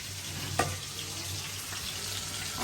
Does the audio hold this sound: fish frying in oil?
yes